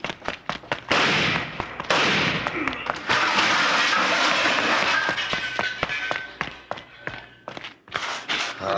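Gunfire in an old-time radio crime drama, heard as sharp bangs amid a busy, loud scene with scattered thumps and cracks, some voices present.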